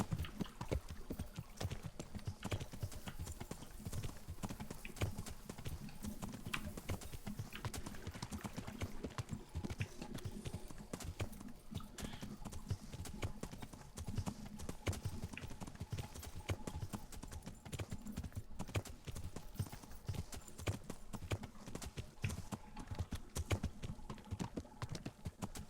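Steady rhythmic clip-clop of horse hooves as a rider travels in the medieval video game Kingdom Come Deliverance, continuous and fairly quiet, with occasional faint clicks in the background.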